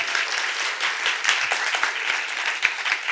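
Dense audience applause at a post-screening Q&A for a film about a rabbi practicing capoeira, steady and close, with many overlapping claps and no talk.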